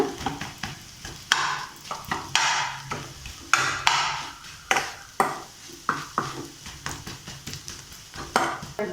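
Bread and egg being minced for kothu bread in a pan, with a rapid run of metallic chopping clanks and scrapes against the pan, close and fairly loud, no voices.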